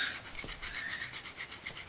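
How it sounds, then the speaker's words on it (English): Wood being sanded by hand during a craft session, a quiet, close rasping scrape repeated in quick, fairly even back-and-forth strokes with no talk. "God, hand sanding is boring."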